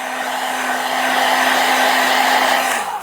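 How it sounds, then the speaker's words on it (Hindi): A hair dryer on low speed blows across alcohol ink, a steady close whoosh with a constant motor hum that cuts off just before the end. "ड्रायर की स्पीड अभी मैंने लो कर रखी है, बट अगर हम हाई कर सकते हैं तो फास्ट हो जाता है काम।"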